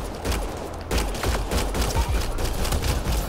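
A sci-fi firefight in Mass Effect: Andromeda: a sustained volley of dense, overlapping gunshots and rapid bursts rattles continuously at close range over a low rumble.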